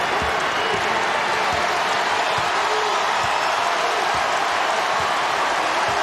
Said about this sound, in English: Nervous energy from this rough crowd.